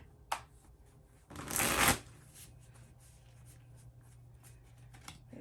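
A tarot card deck shuffled once in a quick riffle lasting under a second, close and crisp against a quiet room, with a couple of faint card taps before and after.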